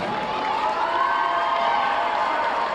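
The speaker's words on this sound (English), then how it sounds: "Let's give them a round of applause." A crowd applauds and cheers for the host athletic staff at a college conference championship, a continuous wash of many hands and voices holding steady and loud for a few seconds.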